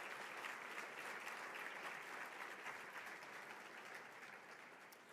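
Steady, full audience applause fills a large room at a memorial breakfast honoring Martin Luther King Jr., following a musical performance; the clapping stays dense and sustained throughout, tapering slightly toward the end with no voices over it.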